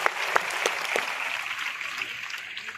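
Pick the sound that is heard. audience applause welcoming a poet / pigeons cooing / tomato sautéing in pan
audience applause welcoming a poet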